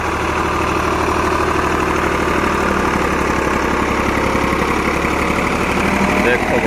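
Close by, a 35 HP Greaves 353 tractor idles in a continuous loud chugging drone with an even mechanical knock, holding steady for the whole stretch.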